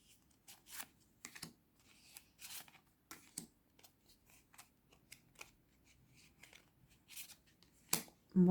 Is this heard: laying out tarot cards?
yes